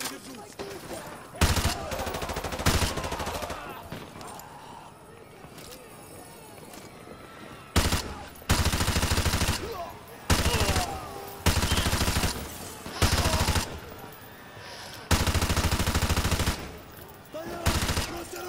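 Bursts of automatic gunfire in a Call of Duty match, loud sustained volleys repeating every second or two after a quieter stretch of scattered shots.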